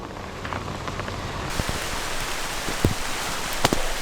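Steady rain falls on a hiking trail to Likeke Falls in Hawaii. A dense, even hiss carries throughout, with a few louder, close drops.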